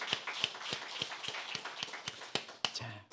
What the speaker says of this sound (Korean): 우리 한번 축복하면서 박수하십시다.